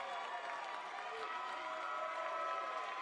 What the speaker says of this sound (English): Crowd here at the Palms absolutely loving it.